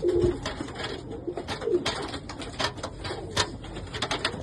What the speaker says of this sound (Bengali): আমার বাড়ির মেন মাস্টার পায়রা এটা